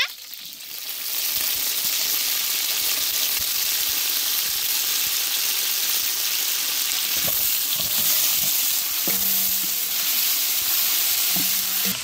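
Mint leaves sizzle steadily in hot oil in a pan with green chillies, a continuous close frying hiss with a few light stirring clinks and scrapes, no voices.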